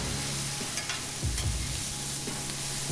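Salted, peppered vegetables for a burrito sizzle on a small grill, a steady close hiss under several scraping, clattering strokes as they are stirred and mixed, with no voices.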